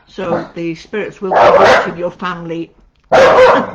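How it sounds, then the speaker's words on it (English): Several dogs bark and yip close by in excited bursts that overlap and alternate with a person talking. "So you have to excuse the dogs"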